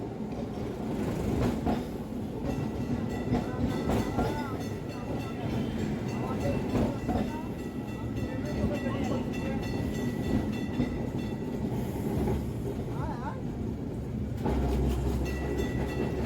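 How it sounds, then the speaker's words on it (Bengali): An electric tram running on its tracks through Kolkata streets, heard from on board: a continuous rumble with rhythmic wheel clatter and metallic squeals, with people talking over it. "আমাদের ট্রামটা যাবে ডান দিকে মল্লিক বাজারের দিকে"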